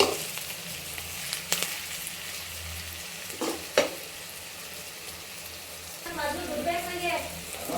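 Onions frying in oil in a pan for lemon rice: a steady background sizzle broken by a few sharp stirring scrapes, then a brighter, bubbling crackle toward the end, close and unaccompanied by talk.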